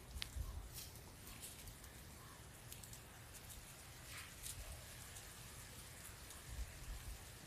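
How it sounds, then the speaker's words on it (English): Rain falls steadily on a farm with donkeys and sheep, a soft, faint hiss of drops pattering on surfaces, with a few brief louder taps scattered throughout. "it is raining out here, guys."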